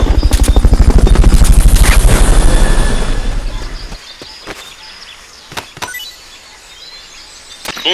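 Helicopter from the video game Metal Gear Solid Peace Walker, a loud pulsing rotor thrum that fades away after about four seconds, leaving a few sharp clicks and thuds.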